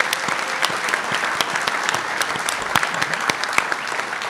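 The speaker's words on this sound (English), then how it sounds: "Let's give them a round of applause as well." Applause from the audience at the close of a live political leadership debate, steady clapping throughout with sharper individual claps standing out, moderately close and without talk.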